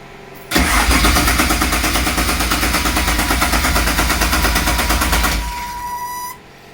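A Toyota Supra mk3 engine cranks loudly and close for about five seconds, its starter pulsing in a fast, even rhythm, then the sound drops to a lower hum before cutting off.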